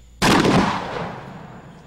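A shotgun fires an incendiary dragon slug round: one loud, sharp blast that booms and then rolls away in a long, fading tail, with no voices around it.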